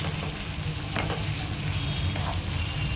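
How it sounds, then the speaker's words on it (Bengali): Ghee sizzles steadily in a pan as muri ghonto, a Bengali puffed-rice dish with garam masala, is stirred, a dense close frying hiss with faint scraping and no talk. "এবার ভালো করে নেড়ে চেড়ে মা এটা মিশিয়ে নেবে।"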